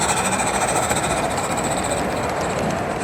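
A live steam model train engine runs at a train expo, giving a steady, fairly loud mechanical rush and rumble with a continuous hiss, heard alone without talk.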